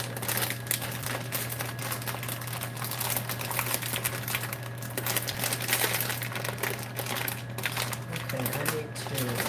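A plastic food bag of tofu and vegetables being handled, a constant close crinkling and rustling over a low steady hum from a pot of boiling water.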